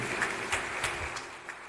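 A crowd claps for a girl at a family blessing gathering, steady applause with a few louder bursts of clapping rising over the patter.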